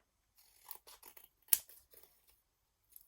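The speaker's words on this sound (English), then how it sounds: "I might need to trim it down a little bit too, because it's a bit jaggedy." Scissors trimming a jagged edge of thick paper for a mini trash art journal: a few quick, crisp snips in a close, quiet room, the sharpest cut in the middle.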